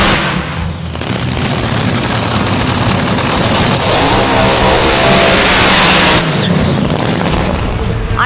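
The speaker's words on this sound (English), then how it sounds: "We're running this KB Elephant motor, and we're revving it up, popping the clutch with a pedal clutch." A Top Fuel dragster with a KB Elephant motor roars under a hot-track tune-up, its engine blasting steadily loud for several seconds with booming, crackling bursts and no talk over it.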